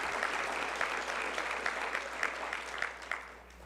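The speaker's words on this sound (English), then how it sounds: "Can we give God a hand clap of praise for every story in this house?" An audience at a Meharry Medical College Circle of Friends event applauds in a steady wash of hand claps, moderately distant and even throughout, with no speech over it.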